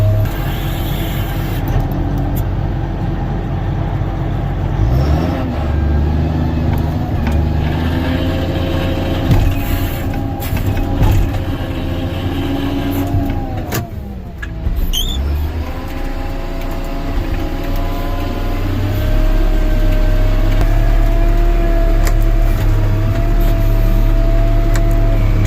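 Diesel engine of a skidder idling and working as its controls are operated, a loud continuous drone with shifting revs, mechanical clunks and a hissing air release partway through, rising again toward the end.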